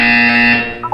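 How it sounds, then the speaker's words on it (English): A loud electronic buzzer from the Portal 2 video game, a steady harsh tone that fades slightly, followed by a short rising two-note chime. "When you hear the buzzer, look up at the ceiling."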